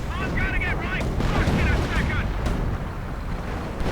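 Gunfire in a real-time strategy game, with a sniper and half-tracks firing, comes as dense, continuous booming shots and rumbling blasts that fill the whole stretch at a loud level.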